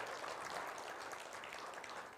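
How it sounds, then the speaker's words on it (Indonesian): Audience applause for Indonesia's Thomas Cup badminton team at a televised comedy event, a dense, steady wash of crowd clapping lasting a couple of seconds with no voices over it. "tepuk tangan buat tim Thomas Cup Indonesia"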